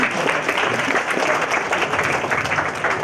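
A seated audience at a Nagarathar Sangam pilgrimage function claps loudly and steadily, a dense wash of many hands sustained through the whole moment with a faint murmur beneath.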